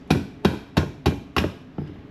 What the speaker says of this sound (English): you use a hammer like a professional